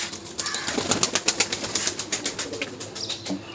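Pigeons at the Uluberia pigeon market beat their wings in quick repeated flaps, a dense close fluttering with rhythmic pulses, while faint cooing and market bustle sit underneath.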